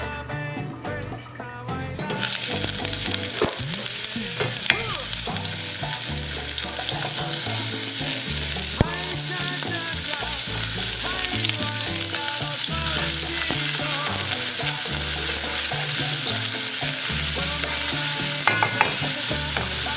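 Chopped onions hitting hot olive oil in a pan, bursting into a loud, steady crackling sizzle after a brief quieter moment and continuing close and unbroken, with occasional stirring.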